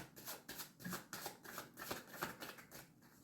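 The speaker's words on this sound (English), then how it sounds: "I'm going to shuffle the deck until it spits the card out" Close, quiet riffling of a deck of tarot cards being shuffled, a steady run of soft papery flutters and taps repeating in quick succession.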